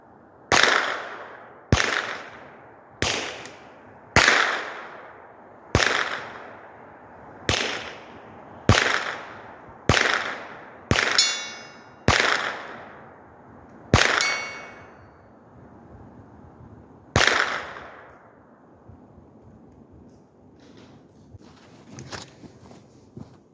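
.22LR rifle gunshots fired through a Blast Forward muzzle brake at an outdoor range, about a dozen sharp, loud cracks spaced a second or two apart, each with a ringing decay, followed by quieter distant sounds.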